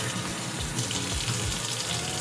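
Tap water runs steadily and loudly, a continuous close splashing gush with no pauses, during home colour film (C41) developing.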